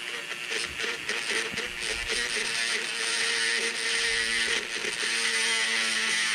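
A Dremel rotary tool grinds grooves into a Hot Wheels toy car's wheel area, giving a steady high whine with small clicks and scraping, moderately quiet and close, with no talking.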